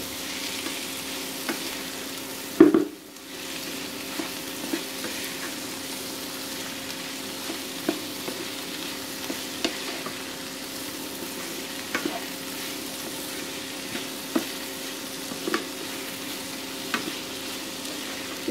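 An egg and bread mixture being stirred in a pan, with a steady quiet frying hiss and sparse light taps from a utensil, one louder clatter near the start, close, no voices.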